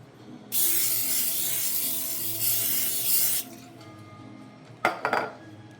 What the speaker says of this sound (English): I'm going to spray my pot.